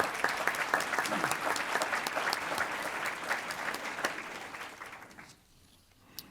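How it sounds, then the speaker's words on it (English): Audience at a formal board meeting applauding people being recognized, a sustained wash of many hands clapping that fades out near the end, followed by a brief quiet and a single knock. "Let's give them an applause for them."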